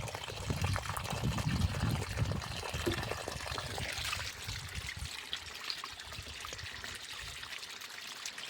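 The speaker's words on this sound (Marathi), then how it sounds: "ही बिसलरी भरून आणली ती थंड पाण्याची आणि आता भरून येते" Cold water pours steadily into a Bisleri bottle with a continuous trickling rush that thins out toward the end.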